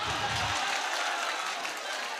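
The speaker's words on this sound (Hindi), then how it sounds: "एक बार जोरदार तालियां मेरे भाई के लिए" Audience applause at an All India Mushaira poetry gathering in Biswa, a dense wash of clapping from a crowd, steady and loud throughout without spoken words.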